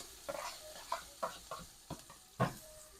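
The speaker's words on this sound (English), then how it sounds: "so we're here frying up our veggies" Vegetables frying in oil in a pot for chilli, with a quiet sizzle under a series of scraping stirs that come roughly every half second.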